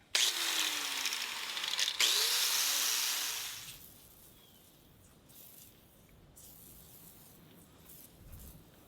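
Aerosol can of Rust Patrol rust inhibitor sprays in a loud, continuous hissing burst for about three and a half seconds, briefly interrupted once, before falling to quiet room tone.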